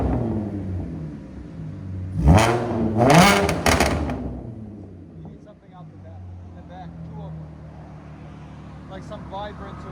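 An Audi S4 with a supercharged 3.0-litre V6, downpipes and a Magnaflow exhaust revs twice in quick succession, two loud rising-and-falling blips that then settle back to a low, burbling idle, with people talking over the idle.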